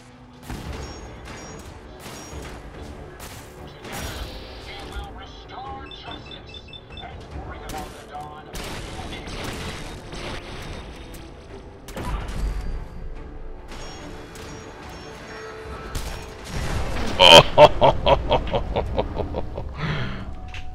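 Grenade blast and rapid gunfire in Fallout 4 survival gameplay, with clattering shots and metallic bursts building to a loud explosion near the end while someone talks over the game.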